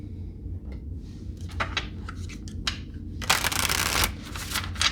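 Tarot cards being shuffled by hand, a run of crisp riffling and flicking bursts that grows into a louder dense flutter near the end, close up over a low steady background hum, with no voice.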